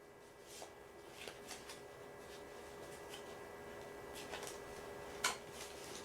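Playing cards being shuffled, faint and close, with soft riffling bursts and a sharper snap near the end against a quiet room.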